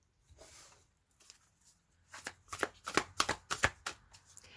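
A Spirit Animal Oracle card deck is shuffled close by, with quiet handling rustles at first and then a quick run of sharp riffling slaps, loud and rhythmic, with no talk.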